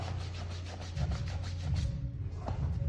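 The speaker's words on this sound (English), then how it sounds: "rub the inner thighs until they get hot" Hands rub briskly over the inner thighs during a nervous-system reflex-point routine, making a steady, close, continuous friction rustle with a faint regular back-and-forth pulse throughout.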